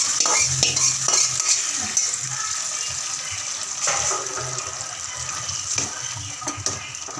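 A tempering is tipped into a pan of aviyal and stirred through, giving a close sizzle with scraping spoon strokes and clinks against the metal pan, loudest at the start and then settling.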